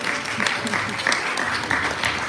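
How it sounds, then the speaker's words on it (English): A magic show audience claps for a volunteer coming onto the stage, a steady, busy patter of many hands that keeps going the whole time, with someone talking in the middle of it. "Give me a round of applause."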